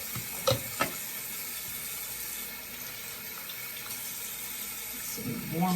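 Warm tap water runs steadily into a sink while a makeup brush is washed, a continuous hiss with a couple of brief knocks and splashes near the start and end.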